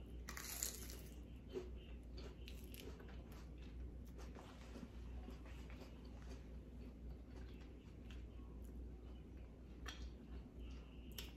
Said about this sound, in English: Do y'all hear that flour crunch?